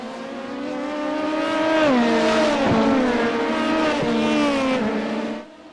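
An LMP2 prototype race car in a racing video game runs at wide open throttle down the Mulsanne straight at Le Mans, its loud high-pitched engine climbing steadily through several upshifts with brief dips before fading at the end.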